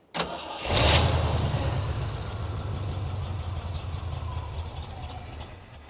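A 1978 Jeep CJ5, revived after years in storage, cranks briefly and then fires, its engine catching and settling into a steady, rough, loud running drone close by, with no talk over it.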